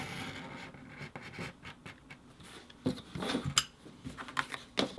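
Leather is cut out for a bag body, close-up scraping and slicing strokes with faint scratches and a few sharper clicks and taps, uneven and quiet.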